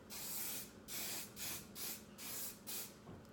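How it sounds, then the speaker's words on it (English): Six or seven short hissing sprays from an aerosol hairspray can in a steady rhythm, each lasting under half a second, close and fairly quiet. "we're gonna spray it one more time"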